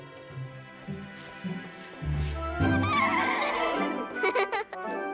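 Cartoon Sky Horsies from Cloudbabies neighing and whinnying in a few bright, playful bursts over a light musical backing, with brief voices mixed in.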